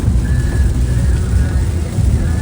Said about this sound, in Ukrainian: нас застала така злива